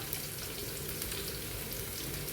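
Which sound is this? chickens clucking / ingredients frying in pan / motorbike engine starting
ingredients frying in pan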